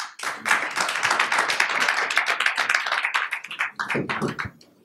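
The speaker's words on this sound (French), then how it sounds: "Il faut l'applaudir." An audience at an eloquence contest claps for a candidate, a lively burst of many hands clapping close and full, tapering off at the end.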